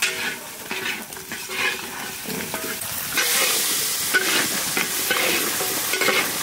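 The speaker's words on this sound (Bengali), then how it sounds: "মশলা কষানো কমপ্লিট হইতেছে" Spices sautéed and stirred in a pot for a village-style mutton curry, busy crackling sizzle mixed with repeated metal spatula scrapes and clinks, growing louder and denser halfway through.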